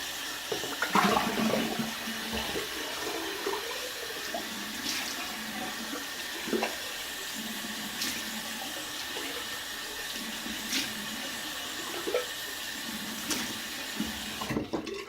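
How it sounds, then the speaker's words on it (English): Cold water running steadily from a tap into a sink, a continuous wash with a few small clinks and knocks, fairly close and alone with no talk. "Go ahead and go straight to cold water."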